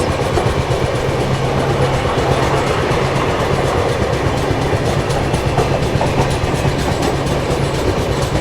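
Andhra Pradesh Express, a passenger express running with ICF stock between Visakhapatnam and New Delhi, rolls steadily on the rails with a loud, continuous rumble and rhythmic clickety-clack of the wheels throughout, no voices.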